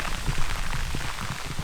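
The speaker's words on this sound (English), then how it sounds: "it's just started raining on us." Rain starting to fall outdoors in the Alaskan wilderness during a moose hunt near a river, a steady close patter of drops on surfaces with no voices.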